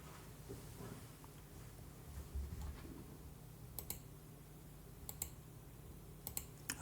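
A computer mouse clicks several times in a quiet room during a drawing session, with sharp isolated clicks in small clusters over a low, steady hum.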